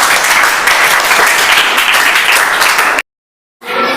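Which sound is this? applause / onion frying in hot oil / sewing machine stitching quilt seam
applause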